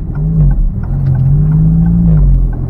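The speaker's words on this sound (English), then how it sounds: "I have got a Maserati MC20 Cielo and the Millbrook proving circuit" A Maserati MC20 Cielo supercar's engine hums and rumbles steadily up close on the Millbrook proving circuit, its pitch dipping briefly and then holding a smooth, sustained whir.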